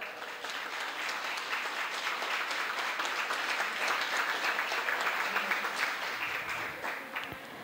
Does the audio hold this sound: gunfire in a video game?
no